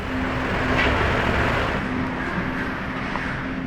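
A Lamborghini Revuelto in Verde Scandal green rolls past amid steady road and traffic noise, a broad, even engine and tyre roar holding at moderate volume throughout without any speech.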